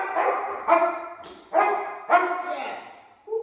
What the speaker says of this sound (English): she's getting to the 5th bark faster and faster each time